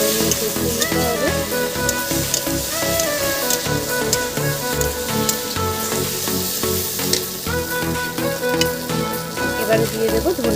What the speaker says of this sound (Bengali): এবার একটু সময় নিয়ে কষিয়ে নিতে হবে।